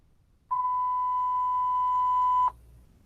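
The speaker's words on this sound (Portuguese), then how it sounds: "Vou fazer aqui um bip de 1000 Hz." A single steady pure 1000 Hz tone beeps for about two seconds, clean and sustained, then cuts off abruptly into quiet.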